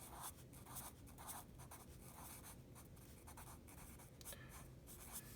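Pen or marker writing out a coordinate pair during a math lesson, continuous scratchy strokes in quick rhythmic bursts, fairly quiet and close, with no voice.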